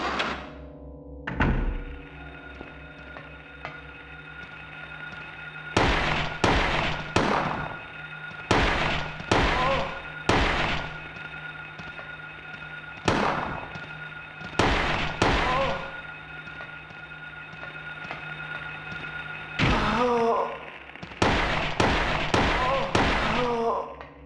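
Handgun shots in the Silent Hill survival horror game ring out in sharp, loud bursts, some single and some in quick clusters of two or three, over a low droning ambience, with someone talking between them.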